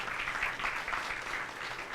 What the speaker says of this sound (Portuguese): Essas palmas têm que ir para realmente quem fez a auditoria.